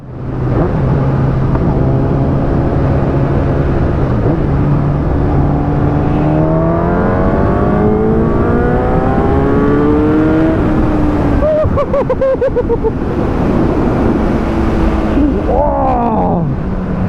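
A 2011 Kawasaki Ninja ZX-10R, roughly 200 hp, on track accelerates hard through several gears, its loud engine note climbing in repeated rising sweeps with quick shift breaks, heard close amid steady wind roar.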